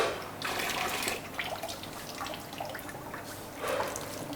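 Water runs from a kitchen tap in the dishwashing area of a cafe kitchen, a faint, steady hiss with soft splashing surges, quiet and without talk.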